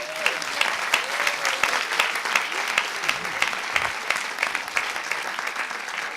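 Audience at the Alsace final of a PhD thesis-in-180-seconds contest applauds a contestant, a dense, steady wash of clapping that holds evenly loud throughout.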